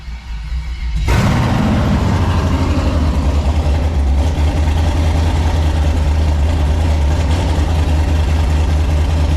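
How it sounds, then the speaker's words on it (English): A rebuilt Ford Fairmont engine cranks briefly, then catches and settles into a steady, loud idle with a deep low rumble that carries on to the end. "So, let's give her a crank."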